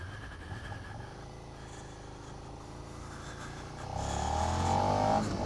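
A 2016 Suzuki SV 650 motorcycle being ridden, its steady engine drone and wind rush running throughout, swelling louder as the engine revs up near the end.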